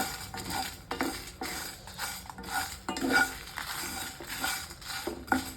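Lentils being dry roasted without oil in a pan for a turkey berry sambar, giving a steady run of light scraping and rattling clatter from stirring, close and moderately loud with no talking.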